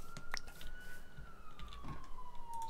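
An ambulance siren outside in Bucharest, a faint distant wail that slowly falls in pitch and carries under quiet room noise and a few soft clicks, no speech.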